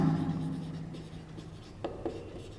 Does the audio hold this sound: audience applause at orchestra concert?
no